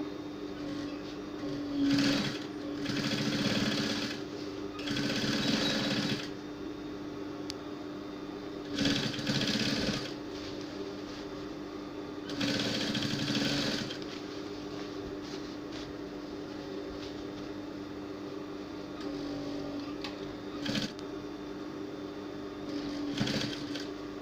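Several separate bursts of a sewing machine top stitching the hem of a pencil skirt, each a few seconds of rapid whirring stitching, with quiet pauses between runs.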